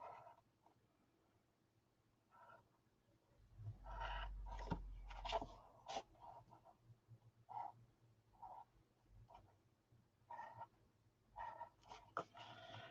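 A dog barking somewhere upstairs in a house, heard as scattered, muffled barks and yelps spread through the clip, somewhat distant and fairly faint, with a few louder bursts.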